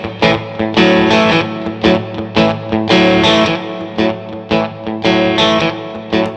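Distorted electric guitar plays a blues backing loop of strummed chords in a loud, steady rhythmic pattern, with no voice over it.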